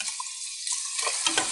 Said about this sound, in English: I rinse it in cold water, and so stop the cooking process